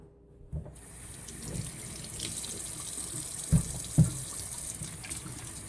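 A tap runs steadily into a sink while hands are washed with Dawn dish detergent, a continuous rushing flow with a couple of soft knocks and splashes near the end, close by and without speech.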